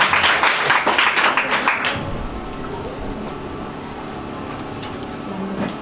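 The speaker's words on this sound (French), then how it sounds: "On applaudit, on le fait" A burst of audience applause at a kindergarten graduation ceremony, brisk clapping for about two seconds that quickly fades into a quieter hall with murmuring voices.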